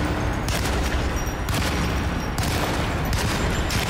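A heavy-recoil gun blasts repeatedly in Alone in the Dark, loud booming shots every second or so over a dense, constant rumble of noise.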